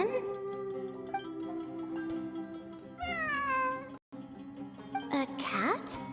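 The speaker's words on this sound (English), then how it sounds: "It really is a cat." Cat meows sound in a video game over a steady musical background, with several drawn-out, rising and falling calls, clear and fairly close, then a brief dropout before the game sounds resume.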